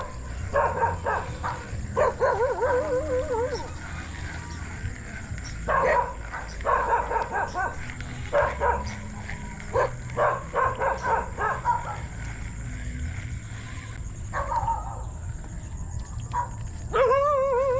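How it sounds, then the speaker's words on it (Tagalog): A dog barks repeatedly at people fishing at a spot outdoors, sharp yips and barks in irregular bursts over steady background noise, with a whimpering note near the end. "tinatahulan na tayo ng aso"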